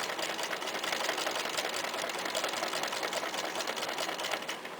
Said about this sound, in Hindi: देखिए मैं आपको सिलाई लगा के दिखाती हूँ।